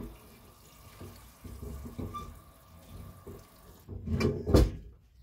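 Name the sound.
water running from tap while washing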